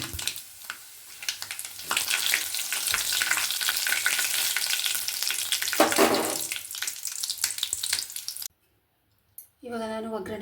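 Dried red chillies sizzling in hot oil for a tempering in a pan, a loud continuous frying crackle that ends abruptly, followed by a short stretch of silence and a brief voice.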